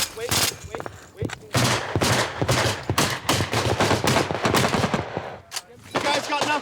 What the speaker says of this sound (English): that's the machine gun